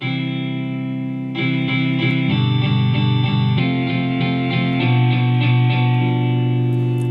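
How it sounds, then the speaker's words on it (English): A distorted roots rock guitar in the iPad GarageBand app, with an echo effect added, plays a run of chords and quick picked notes that repeat and ring on, loud and alone. "There's also a few different options at the top that you can add in, like an echo."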